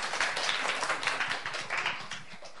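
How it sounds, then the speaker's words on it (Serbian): An audience claps for a child named Zoca at a Saint Sava Day children's show, steady dense applause that holds for the whole stretch with no talk over it. "Jedan aplauz za Zocu"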